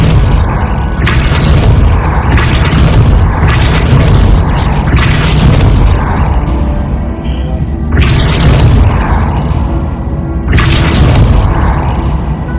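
Depulso spell blasts in the video game Hogwarts Legacy land as a series of heavy booming bursts every second or two, loud over a constant rumbling game soundscape.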